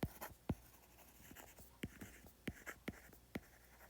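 Pen strokes scratch across paper while a physics problem is worked out, with quiet scattered taps and short scrapes close by in a calm room.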